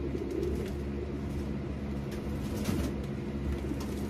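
Racing pigeons coo softly in a loft, low murmuring calls repeating over a steady hum of background noise, moderately distant, with no talking.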